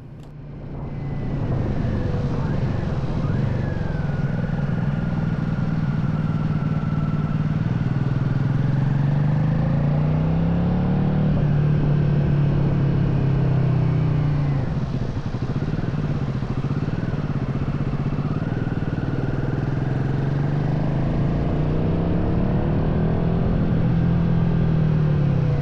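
A Royal Enfield Himalayan 450 motorcycle's 40-horsepower Sherpa 450 engine hums steadily on winding hill roads near Dijon, pitch rising and falling as it rides along, with wind noise and no talking.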